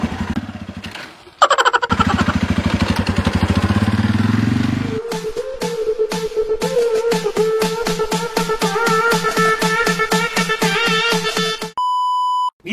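A UM Renegade Commando motorcycle engine cranks and catches, then settles into a loud, steady, rapidly thumping idle close by, and several electronic beeps sound near the end.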